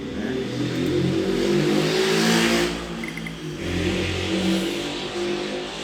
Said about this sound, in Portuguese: passa um carro na rua, é assim mesmo